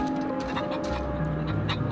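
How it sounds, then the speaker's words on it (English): Poultry clucking from chickens on a farm in The Outer Worlds video game, a steady stream of short calls over a constant low game hum, with no talking. "Oh, they got chickens."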